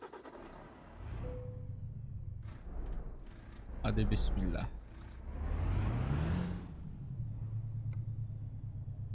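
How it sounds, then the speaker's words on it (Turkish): A heavy truck engine in a video game with a South Marmara map mod rumbles steadily with a hiss of air brakes, while someone talks briefly over it. "Tırın sesi bu şekilde."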